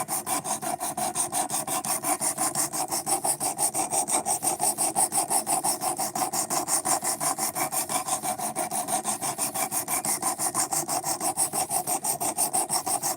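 A blade being sharpened on a file or stone, steady rhythmic back-and-forth rasping strokes, close and continuous for the whole stretch with no voices.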